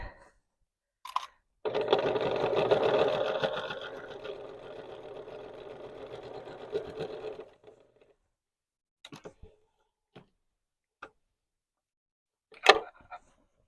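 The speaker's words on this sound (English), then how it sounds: "Now you can put a fancy stitch on this." A sewing machine runs a fancy decorative stitch along quilt binding, a steady close mechanical whir lasting several seconds and slowly easing off, followed by a few scattered clicks and taps.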